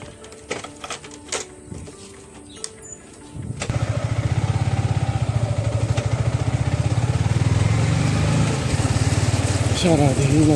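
A new motorcycle's engine starts after a run of sharp clicks and knocks, then settles into a steady, close, even idle that continues to the end.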